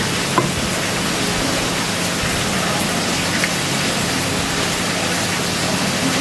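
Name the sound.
frying in a pan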